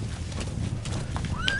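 A horse in Metal Gear Solid 5 gives a short rising whinny over a soft, continuous patter of hooves, fairly close and with no talk.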